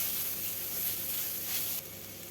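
Water spinach greens sizzle in a pan with salt-drawn water, a steady close frying hiss that drops abruptly softer near the end.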